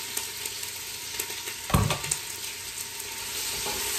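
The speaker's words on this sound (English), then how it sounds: "let me drop one down. Yeah, it's got the sizzle." Steady hiss of beef tips frying in a hot pan, with a louder burst of sizzle as a piece drops in partway through, then the crackle settles back.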